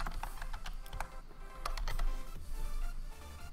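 Computer keyboard keys tapped in quick, uneven bursts while typing a parameter name, close and clear with no talking.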